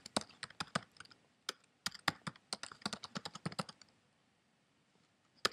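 Code is typed on a computer keyboard in quick, uneven bursts of close, crisp key clicks with brief pauses between them, then the typing stops into near silence. No voices are heard.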